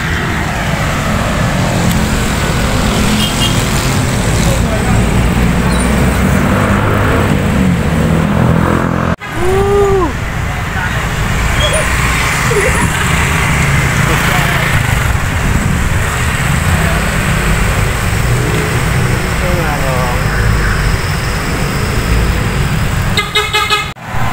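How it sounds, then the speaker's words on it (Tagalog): Continuous loud road traffic with steady engine rumble heard from a moving vehicle, a motorcycle riding close behind, and short car horn toots sounding now and then. "May motor sa likod."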